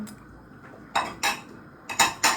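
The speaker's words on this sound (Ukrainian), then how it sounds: "Миється посуда." Dishes being washed by hand in a village kitchen: crockery and cutlery clink and clatter in four distinct sharp knocks, two close together and then two more, over a faint background hiss.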